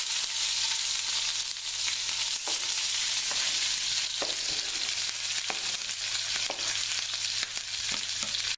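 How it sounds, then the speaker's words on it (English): Vegetables added to oil preheated for about two minutes fry in a hot pan, producing a dense, steady, fairly loud sizzle with scattered crackles and light pops, alone without speech. "add your desired amount of vegetables into the heated pan"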